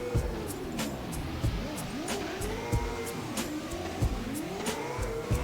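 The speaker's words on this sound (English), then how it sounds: "That's like one of my sicker Assetto Corsa drift moments." An ADC 420 Mustang drifts in the racing sim Assetto Corsa, its engine revving and bouncing off the limiter in rising and falling sweeps, with tire squeal and rhythmic gear-shift pulses, loud and continuous.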